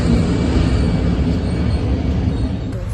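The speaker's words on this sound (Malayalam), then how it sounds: "ഒരു അടിപൊളി റെയിൽവേ സ്റ്റേഷൻ." A loud, continuous low rumble of a train fills the space at Thrissur railway station, steady and close, with no voices over it.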